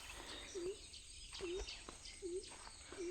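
Birds calling from trees in an open natural setting, a repeated short chirp about once a second over a busy bed of distant twittering and insect hum, with faint speech in the background.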